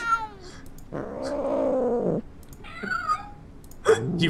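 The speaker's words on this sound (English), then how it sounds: "What virtual mood meow is your cat in?" A cat meows repeatedly in the Nancy Drew: The Shadow at Water's Edge video game, a few drawn-out, wavering cries of varying length, clear and fairly close with quiet gaps between them.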